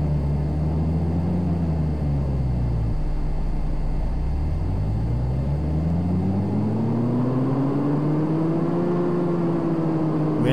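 A tuned Rino Piccolo car engine revs on a dyno in Car Mechanic Simulator, a loud, steady droning engine note that dips, then sweeps up and down in pitch continuously with no talk.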